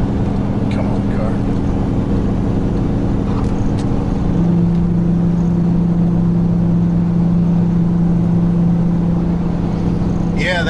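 A Ford F250 truck engine labors up a long, steep hill, heard from inside the cab as a constant, strained drone that steps up in pitch partway through, while a person talks over it.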